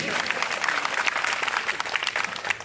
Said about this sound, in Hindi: एक बार अपने लिए जोरदार ताली बजा दीजिए।